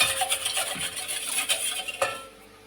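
Oil is stirred into khaman dhokla batter with a spoon in a bowl, giving rhythmic close scraping and clinking that stops abruptly at the end.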